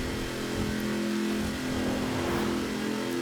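A car engine in Forza Horizon 4 roars at sustained high revs near top speed, a steady loud drone with constant harmonic whine throughout and no talking.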